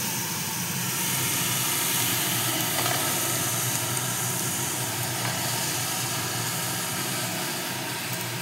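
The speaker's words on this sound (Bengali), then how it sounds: "এখান থেকে আমি আলুগুলো দিয়ে দেবো।" Cut yam pieces (mete alu) drop into a hot pan for a hilsa fish curry, setting off a steady, loud, dense sizzle of frying that holds evenly throughout with no talking.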